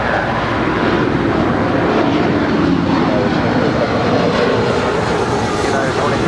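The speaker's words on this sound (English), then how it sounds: "that's the takeoff." A jet airliner roars on its takeoff run at Los Angeles International Airport, runway 25 right, a steady broadband rumble that stays loud and constant, with people talking faintly over it.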